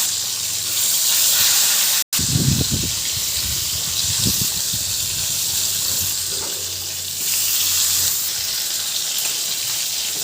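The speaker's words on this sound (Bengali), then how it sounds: "মাছগুলিকে ভেজে নিচ্ছি।" Fish (nola fish) frying in a pan for a tomato curry, a steady broadband hiss of hot oil with a brief dropout and a few louder spattering bursts, continuous and close throughout.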